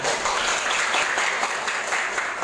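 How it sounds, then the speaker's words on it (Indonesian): An audience in a teacher training session gives dense, steady applause, many hands clapping together loudly and continuously without speech. "Tepuk tangan."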